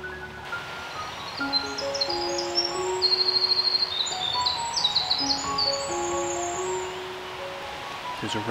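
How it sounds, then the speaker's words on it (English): A wren calls beside a forest brook along a hiking trail, its quick high chirps and trills coming in bursts over a soft woodland background, with a low voice murmuring faintly underneath. "There's a wren calling down here on the trail"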